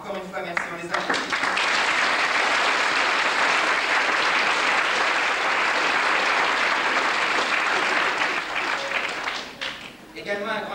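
Loud, steady applause from a theatre audience for friends from the Théâtre Sébastopol in Lille, swelling in after a brief spoken moment and fading near the end as talk resumes.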